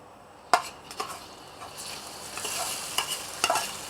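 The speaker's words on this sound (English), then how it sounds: "When I fry this condiment, I always put salt to enhance the aroma" Pounded garlic, shallot and ginger fry in hot oil with steady sizzling, while a utensil scrapes and taps against the pan in several sharp clanks, close by and with no talking.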